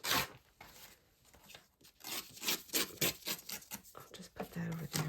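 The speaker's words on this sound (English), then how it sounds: "So let's just start by doing some tearing." Paper is torn by hand for a junk journal, a run of quick ripping and crinkling bursts with brief pauses, close up and fairly quiet.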